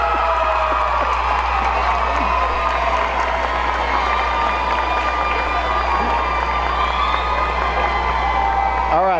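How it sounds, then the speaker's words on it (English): Crowd applause and cheering fill a high school all-star basketball event in the San Antonio area, a dense, steady roar of clapping and whoops held throughout without letup. "big round of applause there"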